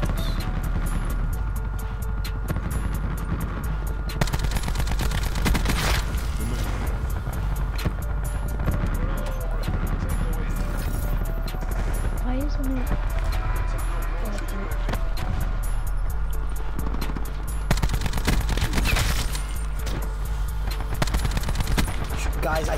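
Rampart 17 assault rifle fire in Black Ops 4, rapid automatic bursts layered through a dense, constant game mix with engine and effects noise, loud and continuous throughout.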